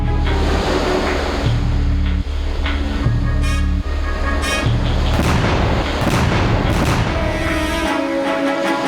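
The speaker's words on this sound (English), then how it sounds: "The first artillery shot from the head ship sounded, and right after that, dozens of naval guns opened fire on the shore." Dozens of naval guns shell the shore from ships. Heavy booms repeat at irregular intervals over a steady wash of surf-like rumble and sustained musical tones.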